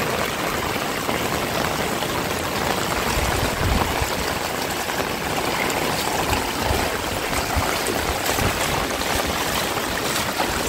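Water flows steadily in a stream in the Jujutla area, a continuous broadband rush and trickle with no voices.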